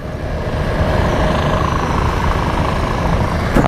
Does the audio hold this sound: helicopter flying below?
yes